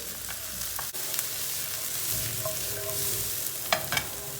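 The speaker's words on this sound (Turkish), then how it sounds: "Biberle soğanları bir kavuracağız." Onions and peppers sizzle steadily in a hot pan, a dense close hiss broken by a few sharp taps and scrapes of a stirring utensil, with no talking.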